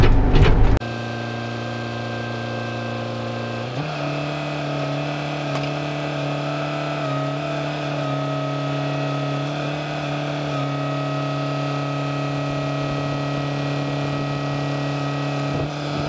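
A Cat 432E backhoe loader engine runs steadily at close range, a constant low drone with a strong harmonic hum that shifts pitch slightly after a few seconds as the machine drives, continuing unbroken throughout.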